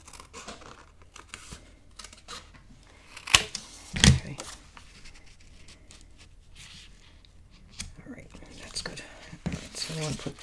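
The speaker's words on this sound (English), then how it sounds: "I'm just going to cut the, just using my scissors and cutting along this line." Scissors cut along a line through paper for a handmade mini album, with faint snips and crinkles, a couple of sharper crunches near the middle, and soft handling noise, mostly quiet and close.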